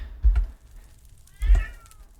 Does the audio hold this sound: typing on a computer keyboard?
no